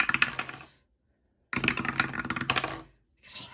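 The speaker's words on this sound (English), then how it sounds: "It's an awesome dice tower." Dice tumble down a 3D-printed dice tower in two clattering bursts of rattling plastic clicks separated by a short silence, followed by the start of a third rattle, close and fairly loud.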